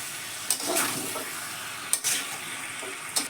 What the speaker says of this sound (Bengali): আলুটা দিয়ে একটু কষিয়ে নেব।